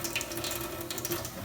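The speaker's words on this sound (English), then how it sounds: "Rinse the bottle out thoroughly to make sure we're not having any particles left there." Tap water runs steadily into a sink while a bottle is rinsed out, a close, continuous splashing wash with no voices.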